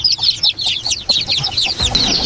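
Hens and chicks in a coop give a busy run of high, rapid peeping and clucking calls, close and fairly loud, overlapping continuously with a brief low thump near the end.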